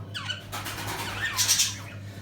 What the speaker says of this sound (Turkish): Güvercinlerin seslerini duyuyorsunuz.